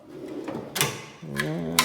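A metal Harbour Freight US General tool cart drawer slides and knocks shut in a few sharp, close clatters, heard under a voice.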